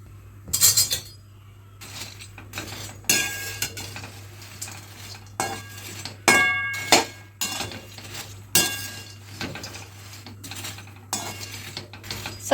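Bread pieces frying in a pan for a bread chooda snack, with steady close stirring and scraping of a utensil against the pan and repeated metallic clinks over a low hum, no talking.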